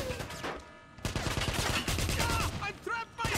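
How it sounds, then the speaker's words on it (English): Gunfire in Wolfenstein, dense rapid shooting with sharp repeated cracks under a voice speaking throughout. "I'm trapped by enemy fire!"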